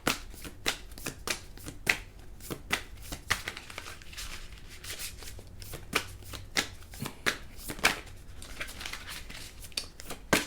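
Tarot cards shuffled by hand in a steady run of crisp riffling snaps and flutters, close and fairly quiet, with no talking.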